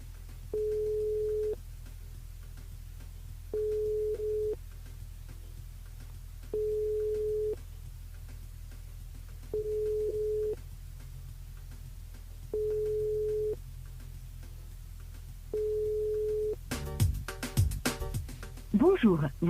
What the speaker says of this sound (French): On appelle Matisse sur le jeu Night par SMS au 80-90.